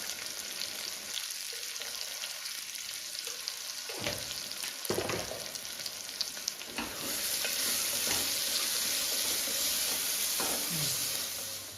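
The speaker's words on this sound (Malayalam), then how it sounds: "ഞാൻ ഒരു 2 സവോള നുറുക്കിയതാണ്, അതൊന്ന് നമുക്കൊന്ന് അഴിച്ചെടുക്കാം" Two chopped onions sautéing in a pan with salt for a restaurant-style chicken curry, a steady close sizzle and hiss broken by a few stirring scrapes, growing louder and denser toward the end with no speech.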